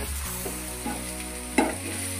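Paneer butter masala frying in a pan, a soft steady sizzle with a few light scrapes of a spoon, near and fairly quiet, no one speaking.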